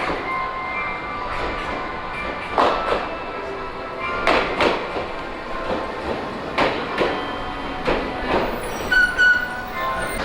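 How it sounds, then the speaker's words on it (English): Train at a Japanese railway station, with repeated clanking and rattling of cars and wheels, a steady rumble beneath and faint squeals, fairly close and without talk. "now we're just here at the train station"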